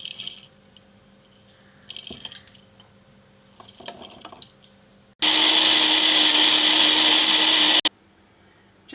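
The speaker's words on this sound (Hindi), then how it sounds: "तो चलते हैं अपने ग्राइंडर की तरफ और इन तीनों चीज़ों को मैं इकट्ठा ही कर लेती हूँ।" A kitchen grinder pulverises garlic, chillies and ginger together for seekh kebab, a loud, steady whirring roar of about two and a half seconds that starts abruptly and cuts off, following quiet kitchen clatter.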